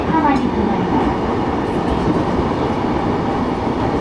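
Keiyo Line rapid train running outbound from Tokyo toward Minami-Funabashi, heard from inside the car as a steady, loud rumble of wheels and motors throughout, with a faint rail click near the start.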